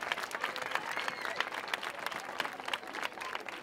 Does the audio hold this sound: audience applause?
yes